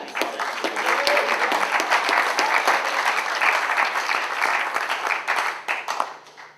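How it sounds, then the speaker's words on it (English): A seated audience gives a lecturer on peace and spiritual living a long round of applause, a thick even roar of clapping that holds steady and then fades out. "So I'd like to give you another round of applause."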